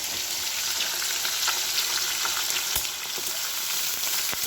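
Fish frying in a pan at home, a loud, steady sizzle and crackle of hot oil with scattered sharp pops throughout, no voices.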